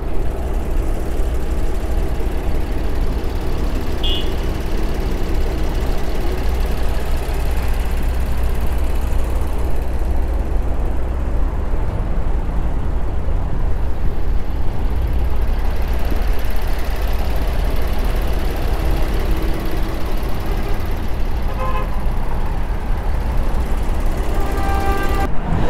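A 2021 Volkswagen Atlas Cross Sport SEL V6 R-Line idles with its hood open, a steady low engine rumble and hum heard close up throughout, with no talk.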